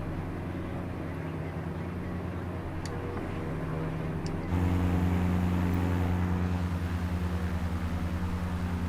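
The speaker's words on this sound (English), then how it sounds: "Really nice takeoff here." A Camair Twin Navion twin-engine propeller airplane takes off from Long Beach in Microsoft Flight Simulator. Its engines make a steady, droning buzz that swells noticeably louder partway through and then holds a deeper, fuller roar.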